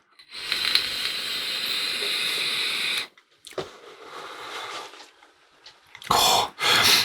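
Three seconds of steady airy hissing and crackle as a GeekVape Aegis Boost pod mod fires on a 0.6 ohm mesh coil at 20 watts, then quieter rustling and a few short, louder bursts near the end.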